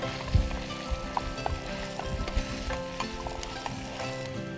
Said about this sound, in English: we sauteed the onions a bit till they turn a little transparent